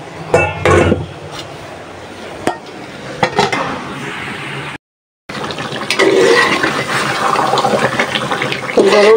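Water is poured into a pan of braised beef on the stove, giving a close splashing, gushing pour with stirring and clatter, a brief dropout mid-way, then a steady rush of liquid.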